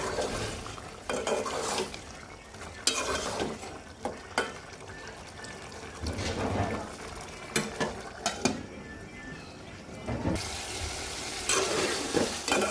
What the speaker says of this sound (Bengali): মশলার সাথে আলুগুলো কষাবো টমেটো দিব এখানে দুইটা টমেটো